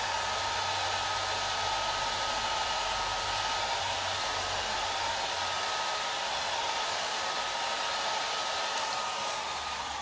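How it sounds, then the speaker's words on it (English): A small blow dryer roars steadily and loudly up close for the full stretch, alone without talk, drying chalk paste on a wreath. "do the little blow dryer there"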